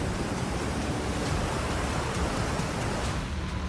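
Floodwater during monsoon flooding in Jodhpur rushes under a road and erodes the ground beneath it, a dense, continuous roaring wash at close range with no voices.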